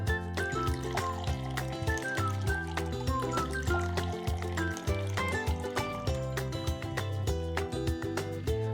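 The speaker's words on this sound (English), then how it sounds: "So slowly add your water." Water is poured slowly into a row of glasses for a walking rainbow experiment, a gentle trickle and fill nearly buried under steady, bright background music.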